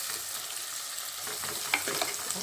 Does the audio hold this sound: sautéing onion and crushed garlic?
yes